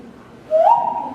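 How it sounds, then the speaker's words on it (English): A Brazilian tribal nose whistle, blown through the nose, gives a single clear, loud tone that slides upward and then holds steady for a moment. "It's called a nose whistle because you play it with your nose."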